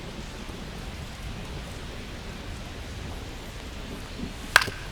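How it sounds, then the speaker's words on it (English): Steady rain in the baseball game MLB The Show 25, a soft even hiss of falling drops running throughout, with a brief sharp crack near the end. "This rain is not letting up."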